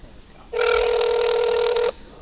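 A telephone rings over a speakerphone during a hall of fame ceremony, one steady electronic ring burst of over a second, clear and fairly loud.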